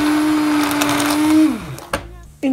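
A kitchen blender whirs loudly and close while puréeing a sauce for a Christmas duck breast dish, holding a steady motor whine before it winds down and stops, followed by a couple of short knocks.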